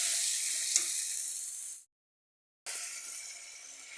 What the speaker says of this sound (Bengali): এবার তৈরি করে রাখা সেই মশলাটা আমি দিয়ে দেবো দিয়ে এবার হালকা হাতে খুব নাড়তে হবে